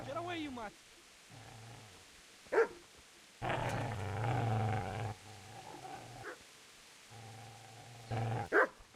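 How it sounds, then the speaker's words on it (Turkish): A dog growls and barks in the game Kingdom Come: Deliverance, several low rumbling growls broken by sharp barks, with game voices speaking in between. "Köpek sesi geliyor. Bu taraftan geliyor."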